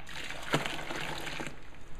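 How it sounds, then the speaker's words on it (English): Hot water poured into a grain mash while brewing an all-grain Alaskan Amber beer, a close, steady splashing pour with a brief heavier slosh near the start, easing off toward the end. "I'm going to add the rest of this water"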